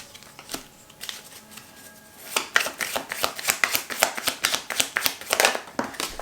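Tarot cards that fell are gathered up and handled close by, starting with a few soft taps, then a run of quick, crisp card flicks and shuffling slaps, loud and near with no talking.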